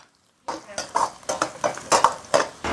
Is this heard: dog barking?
no